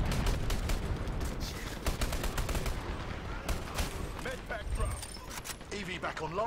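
Rapid gunfire from the Dirty Bomb shooter game rattles in repeated bursts over a busy mix of mechanical clatter and game noise, with voices talking underneath.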